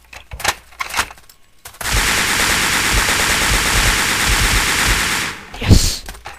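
Automatic gunfire in the video game Ace of Spades rattles loudly and steadily for several seconds after a few scattered earlier sounds, then stops with a louder burst.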